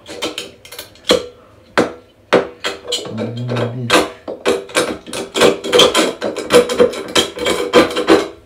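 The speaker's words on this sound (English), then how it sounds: "I'm gonna use a scraper to" Old sealant is scraped off a shower with a bladed scraper and a small knife, giving a run of sharp scraping and tapping strokes, close and fairly loud, with uneven rhythm and no talking.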